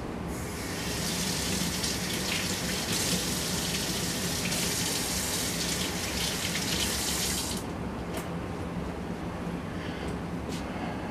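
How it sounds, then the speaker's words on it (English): Steady running water pours from a tap over a printed circuit board being rinsed, a continuous loud gush for about seven seconds before the flow cuts off, leaving faint drips and small clatters. "let me rinse that off."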